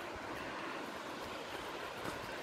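Water cascades down a tall hillside waterfall in two or three tiers, heard as a steady broadband rushing roar from a short distance, continuous and unbroken, with some wind buffeting the microphone and no voices.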